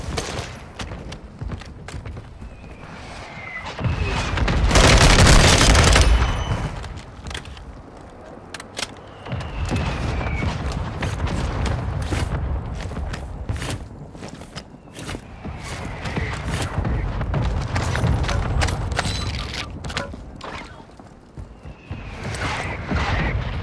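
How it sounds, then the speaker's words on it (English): Mortar strike explosions in the Warzone 2.0 video game hit as heavy booms, the biggest blast near five seconds, followed by further rumbling impacts and scattered gunfire across a loud, chaotic stretch. "Hostile mortar strike near your position."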